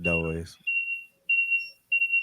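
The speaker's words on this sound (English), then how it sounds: "There's so like a beeping noise happening." A steady electronic beeping like a smoke alarm sounds in three repeated tones, each lasting about half a second, following a brief stretch of a person talking.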